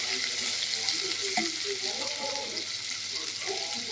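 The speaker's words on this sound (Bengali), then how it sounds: "পেঁয়াজটা একটু" Sliced onions fry in oil until reddish brown, giving a dense steady sizzle with a few stirring knocks, close up.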